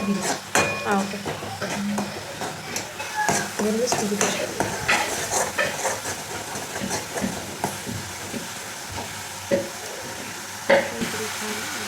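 Grated coconut is stirred into simmering dal fry gravy, with a spoon scraping and knocking against the pot over a steady sizzle while someone talks throughout.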